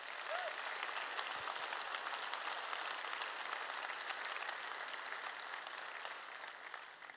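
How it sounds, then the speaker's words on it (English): An audience claps steadily through a CCP presentation at EVE Fanfest 2011, a dense and even wash of applause from a large hall that holds for several seconds before tailing off slightly at the end. "So you should all applaud yourselves."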